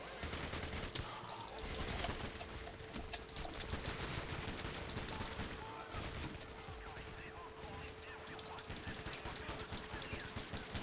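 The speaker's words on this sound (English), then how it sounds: "I am blind firing." Sustained gunfire from the video game Payday: The Heist, dense overlapping shots and bursts of automatic fire forming a loud, continuous battle din for the whole stretch, with a faint steady tone underneath.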